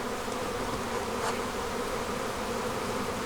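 Honeybees from a swarming colony buzz steadily around a brood frame heavy with very large queen cells, a dense continuous drone close to the listener with no voices.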